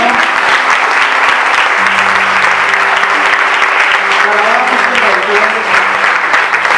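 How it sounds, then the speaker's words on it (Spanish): A church congregation applauds during a Spanish-language service, with loud, steady clapping from the whole room and a sustained musical tone beneath it. "Dale un aplauso al Señor."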